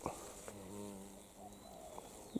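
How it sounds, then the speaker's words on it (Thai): Bees or similar insects flying in a forest near a wild giant honeybee nest, a steady low buzzing drone with soft harmonic bands that holds throughout, fairly faint, with a few brief clicks and thumps and no talk. "ได้ยินเสียงผึ้งหรือแมงยังบิน"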